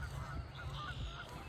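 A flock of geese honking as they fly over a field toward a river, a brief burst of overlapping nasal calls heard at moderate distance outdoors.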